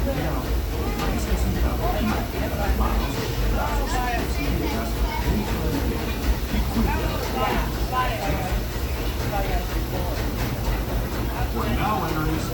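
Disneyland Railroad train ride heading toward Splash Mountain, a steady rumble of rolling wagons and engine noise filling the whole stretch, with people talking throughout over the track sound.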